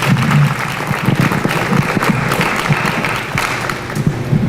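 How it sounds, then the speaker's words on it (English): Audience applause at a community meeting on reimagining policing, a dense, steady crowd clapping that fills the room at full volume for several seconds with no speech over it. "can we give them a quick round of applause so we can keep this rolling?"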